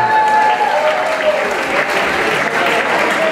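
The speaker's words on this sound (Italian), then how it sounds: "Fatemi un applauso." An audience at a live folk concert claps loudly and steadily, a dense sustained wash of applause with a faint tonal note running underneath.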